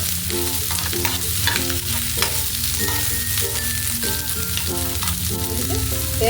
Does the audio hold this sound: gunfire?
no